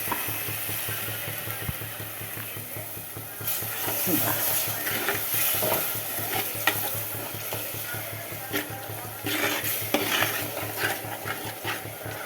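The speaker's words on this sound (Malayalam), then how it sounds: "നമുക്ക് പുളിവെള്ളം ഒഴിച്ചു കൊടുക്കാം" Tamarind water hitting hot oil and fried chilli masala for a mackerel curry, giving a steady close sizzle with stirring scrapes and occasional splatter bursts, no talking.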